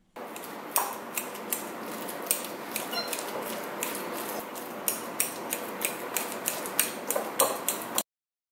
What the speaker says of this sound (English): I like to break them up and stir them until they're almost liquefied